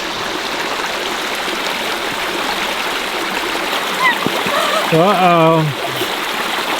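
A river runs strong at night, a steady broad wash of flowing water throughout, with a person briefly speaking near the end.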